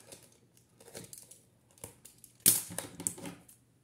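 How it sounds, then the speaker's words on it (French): A craft knife slices cardboard while a desk organiser is being built, producing quiet, close scraping and crunching strokes with a sharper, louder cut near the end. "avec le cutter, puisque je ne peux pas passer mon ciseau, je coupe."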